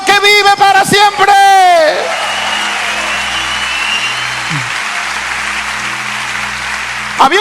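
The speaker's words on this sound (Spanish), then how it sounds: "Dele un aplauso al que vive para siempre." Church congregation applauding during a Spanish-language sermon: a loud, steady wash of clapping that rises after the preacher's voice cuts out and holds for several seconds, with voices briefly heard at the start and end.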